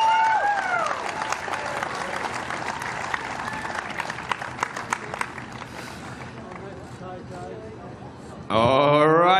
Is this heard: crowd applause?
yes